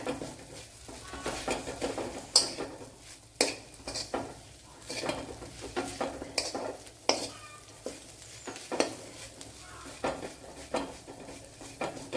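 Pappadam chutney is mixed thoroughly in a dish, with a steady rhythm of stirring, scraping and soft clinking of a utensil against the container, repeated every second or so at close range.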